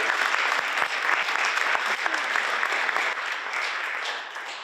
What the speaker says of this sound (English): Let's give Katie Nazarian a round of applause, please.